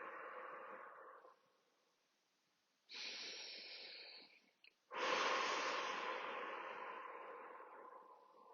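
Slow, audible breaths taken during a guided chest-breathing relaxation exercise, each long exhale heard close and alone, separated by pauses of near silence.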